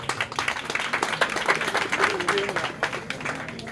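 Loud applause from an audience at a political gathering in Gabon, dense clapping filling the whole stretch with a murmur of voices beneath it.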